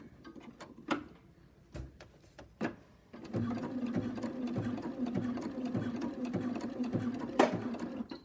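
A sewing machine stitches paraglider line in a steady rapid mechanical rhythm after a few separate clicks and thumps, running close and continuous at moderate volume.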